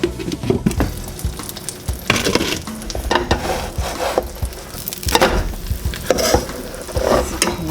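Breakfast tortillas with turkey pastrami, cheddar and green onion frying in a pan, a soft close sizzle broken by repeated scraping and tapping of a spatula.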